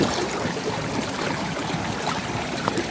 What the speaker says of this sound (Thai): นี่น้ำไหล